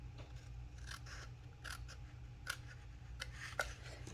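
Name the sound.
trimming a paper card with scissors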